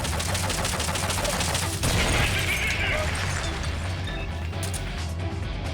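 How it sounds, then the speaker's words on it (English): Rocket fire in Metal Gear Solid: Peace Walker, a dense barrage of launches and crashing blasts rolling on loud and continuous, with a sharper burst partway through. "There they go spamming rockets again."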